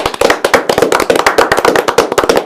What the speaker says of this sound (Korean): 이재명 후보를 위해서 우리 박수 한번 드리겠습니다